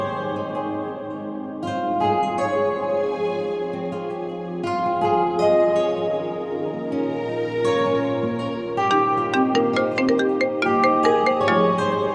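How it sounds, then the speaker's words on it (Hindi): A phone ringtone plays as a continuous melodic tune with tinkling high notes, ringing steadily and fairly loud for several seconds with no talking over it. "उठा लो फोन।"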